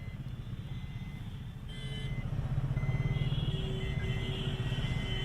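Motorcycles of a political bike rally and roadshow crowd, a steady massed engine rumble that grows slightly louder as bikes pass, with faint higher engine whines over the drone.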